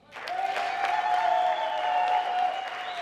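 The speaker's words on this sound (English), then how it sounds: "We need to clap hands for those people." A crowd claps steadily at a Zimbabwean independence celebration. The dense applause runs throughout, under a sustained high tone.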